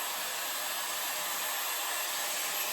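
A Shark Glam hot air styler runs on its dry setting, giving a steady, loud, close-up whoosh of blowing air that holds unbroken throughout.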